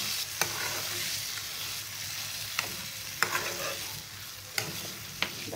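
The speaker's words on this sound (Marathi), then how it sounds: "आणि आता याला मस्त वगैरे असं हलवून घ्यायचं आहे।" Pithla, a gram flour curry, sizzles steadily in a pan while a spoon stirs it, with a few sharp clinks and scrapes against the metal standing out over the continuous frying hiss.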